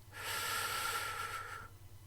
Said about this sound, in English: Let's think about our soups and take a large breath in